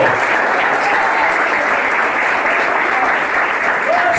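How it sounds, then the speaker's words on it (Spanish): A church congregation gives the Lord a loud, dense round of applause that stays steady and unbroken for several seconds. "dale un fuerte aplauso al Señor."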